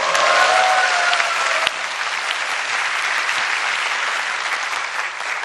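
Steady applause from a lecture audience at an author's talk, dense clapping filling the room at even loudness for several seconds with no voices over it.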